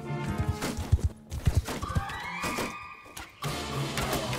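Horses gallop with rapid thudding hoofbeats and a loud drawn-out whinny in a Mount & Blade battle with Roman and Carthaginian armies, close and busy, followed by a rumbling din.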